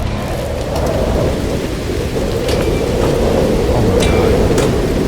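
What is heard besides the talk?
superheated rainstorm with thunder in No Man's Sky video game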